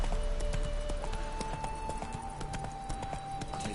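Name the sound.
horse Roach's hooves clip-clopping in the video game The Witcher 3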